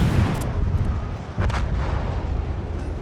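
Naval guns of the destroyer Cossack in a video game fire shells, with a heavy boom near the start and another around midway over a low rumbling background, without speech.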